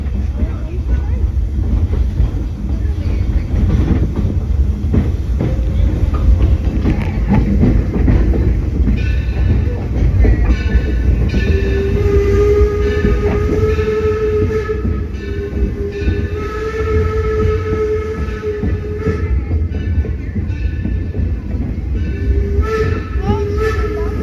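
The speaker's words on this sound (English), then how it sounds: "Here comes the train." A train rolls past a heritage railway on an opening members day, its loud rumble and clatter lasting throughout, with a sustained horn sounding in the second half and voices faintly beneath.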